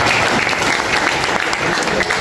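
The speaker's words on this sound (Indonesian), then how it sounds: "Baik, tepuk tangan untuk." Students in a classroom give a loud, continuous round of applause, dense and close, holding steady for a couple of seconds.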